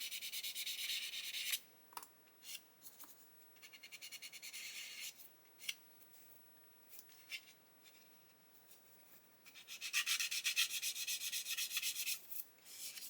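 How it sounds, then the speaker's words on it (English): Light sanding on a plastic part of an Airfix 1/48 Spitfire Mk.XII kit, heard as steady close-up rubbing strokes in bursts with short pauses between them and no voices. "I'm just going to lightly sand over that"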